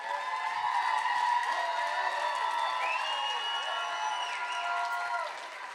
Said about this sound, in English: I love the cheering sections this evening.